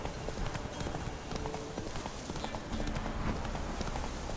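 A horse's hooves in the video game The Witcher 3: Wild Hunt beat a fast, steady galloping rhythm, loud and close throughout, with a little speech faintly underneath.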